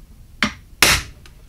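A hammer drives a transfer punch into a rough hole drilled in an EGR block-off plate, giving two sharp metallic strikes, the second louder, then a faint third tap, close and with no voices.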